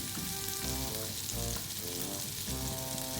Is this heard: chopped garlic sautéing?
yes